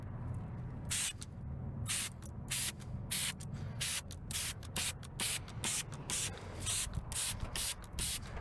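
Tire dressing is sprayed onto car tires in a long run of quick hissing bursts from a trigger sprayer, close and steady over background noise.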